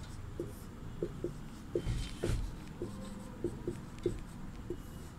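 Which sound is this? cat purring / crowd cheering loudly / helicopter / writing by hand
writing by hand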